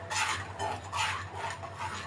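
A spoon stirring an egg mixture in a pan over low heat, producing soft repeated scraping strokes in a steady back-and-forth rhythm, close and fairly quiet, with no speech.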